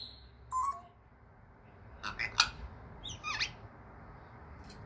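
A pet bird outdoors in the cold gives several short, sharp squawks in scattered bursts, fairly faint over steady background noise, with no talking during the calls.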